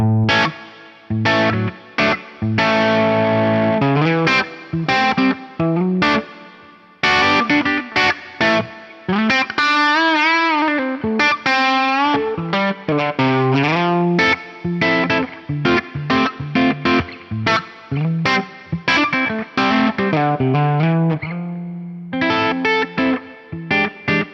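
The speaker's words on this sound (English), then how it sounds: "still gonna have that nice, shiny, sparkly top end on the reverb, but it won't muddy up the low end" Electric guitar played through a Fractal FM3 reverb with low cut, a run of picked notes and chords with a bright, spacious reverb tail and a tight, uncluttered low end.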